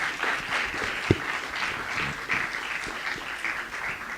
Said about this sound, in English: A round of applause for none other than Mr.